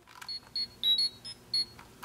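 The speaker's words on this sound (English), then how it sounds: "if I turn it on, it does the familiar communicator beep" A toy Power Rangers communicator chirps a short series of bright, high electronic beeps in a quick uneven rhythm, close and clear with no voices.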